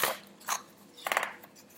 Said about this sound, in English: cut all these out